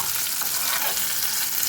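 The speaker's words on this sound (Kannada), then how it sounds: "ಈರುಳ್ಳಿ ಎಲ್ಲ ಚೆನ್ನಾಗಿ ಫ್ರೈ ಆಗಬೇಕು, ಎಣ್ಣೆಲೆ ಕ್ರಂಚಿ ಆಗಬೇಕು ಈರುಳ್ಳಿ." Sliced onions fry in hot oil, giving a loud, continuous close-up sizzle with faint stirring movement and no talking.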